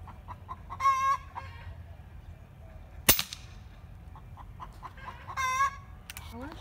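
A few chickens cluck and squawk in short bursts nearby, with a single sharp pop or bang partway through, over faint background noise.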